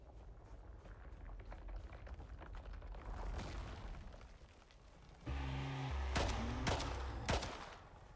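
Gunfire from incendiary rounds aimed at a sandworm in the video game Styx, a dense rumbling barrage that swells partway through with sharper, louder bursts near the end.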